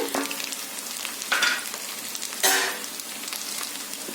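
Boiled, peeled taro pieces go into a hot pan of oil and fry with a steady sizzle, with a couple of louder bursts as the pieces are stirred and shifted.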